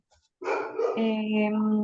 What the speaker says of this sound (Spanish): Está como loco mi perro.